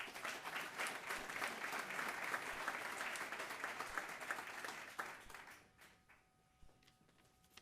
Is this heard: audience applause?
yes